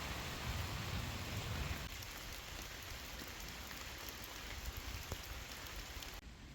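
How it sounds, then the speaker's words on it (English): Heavy rain falls outdoors around a group sheltering under a big tree on a muddy bottle-digging day, a dense continuous hiss of drops that eases slightly partway through and runs alone without talk. "we just had to stop the video because of all the rain"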